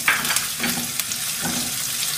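Chopped beans fry on lowered flame in a pan for restaurant-style chicken fried rice, giving a loud, continuous crackling sizzle with light stirring scrapes close by.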